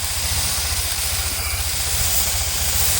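A tractor engine runs on a farm in India, a steady low rhythmic throb with a broad hissing wash over it, continuous and fairly loud throughout with no talk.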